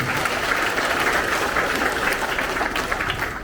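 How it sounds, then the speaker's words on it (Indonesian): An audience at a village finance forum with the Wonogiri regent in Jatipurno district claps steadily, a dense crowd applause that stays loud and even throughout with no pauses. "Tepuk tangan menjadi purna."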